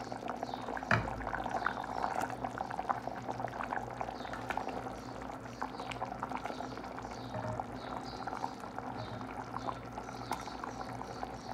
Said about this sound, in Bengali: এখন আমরা ভাজা মাছগুলো দিয়ে দেবো একটা একটা করে